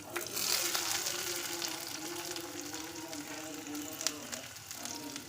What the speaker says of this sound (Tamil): அதிலே வெங்காயத்தை போட்டு வணக்கிடுவோம்